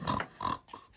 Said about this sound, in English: and a baby pig on the farm.